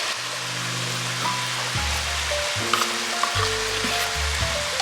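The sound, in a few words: stirring ketchup and cream of mushroom soup in a pot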